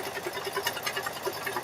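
An embroidery machine stitches a quilted bear design, giving a rapid, even mechanical chatter of needle strokes that runs steadily and moderately loud with no voices.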